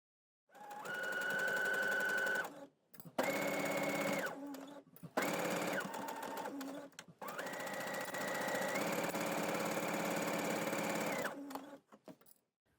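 A sewing machine stitches binding onto a dress neckline in several loud, steady whirring runs of varying length, separated by brief pauses, with the pitch shifting as the speed changes.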